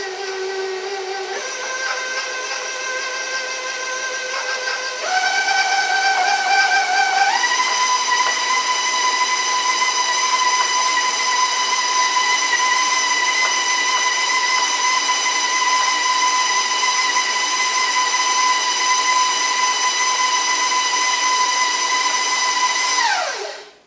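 An electric mixer beats Toll House cookie dough with vanilla, a loud, close, steady motor whine. It steps up in speed twice early on, then holds a high pitch before stopping abruptly.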